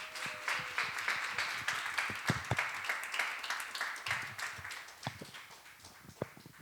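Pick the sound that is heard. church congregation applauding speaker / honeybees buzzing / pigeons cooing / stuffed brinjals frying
church congregation applauding speaker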